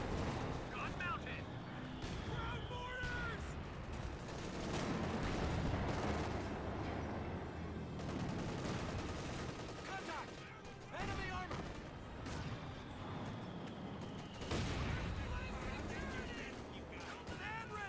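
A Pak 40 anti-tank gun fires in the Company of Heroes 2 strategy game, among steady battlefield gunfire and artillery rumble. The blasts are repeated and sharp, with someone talking over the noise throughout.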